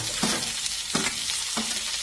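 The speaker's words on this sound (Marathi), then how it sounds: "लसूण आणि मिरची पण चांगली कांद्यामध्ये परतून घेतलेली आहे" Onions, garlic and green chilli sauté in a pan with steady sizzling, broken by three brief stirring scrapes at roughly even intervals, close and fairly loud.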